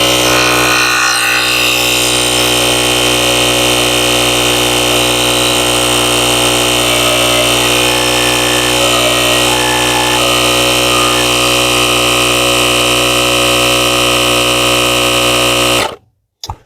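The air compressor of a Black Spike portable jump starter runs loud and close while inflating a car tire, a steady buzzing drone that goes on without a break and then cuts off sharply at the end.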